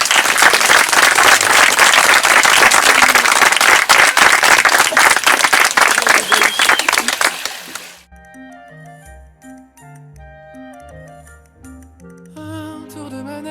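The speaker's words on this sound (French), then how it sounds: "On peut nous applaudir plus fort que ça." Wedding guests burst into loud, dense applause that carries on for about seven seconds, then cuts off abruptly and music takes over.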